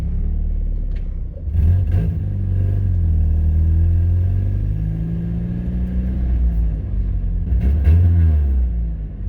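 A rebuilt car engine running loudly on its first drive with a brand-new clutch: a deep, close rumble that rises and falls with revving and gear changes, steady throughout with no talk.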